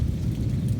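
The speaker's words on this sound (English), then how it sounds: "that's a big thunder over that way" Low thunder rumbles steadily through a rainstorm, a distant continuous roll under the hiss of falling rain, with no voices.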